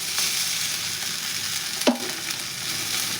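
Dill leaves fry in oil with onion, green chili and garlic, giving a steady loud sizzle throughout and one brief clank of a utensil near the middle.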